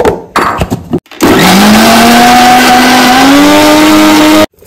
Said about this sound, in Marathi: आणि पाणी ओतून ते वाटून घेणार आहे।